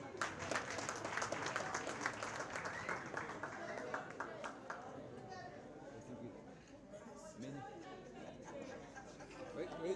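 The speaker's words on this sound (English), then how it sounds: "A round of applause." An audience applauds at a teachers' union merit awards ceremony, steady dense clapping mixed with crowd chatter and voices, continuing for several seconds before thinning slightly.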